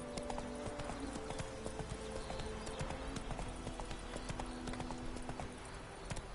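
The horse Roach gallops in the video game The Witcher 3, its hooves pounding in a quick, steady, close rhythm, with a low ambient hum underneath.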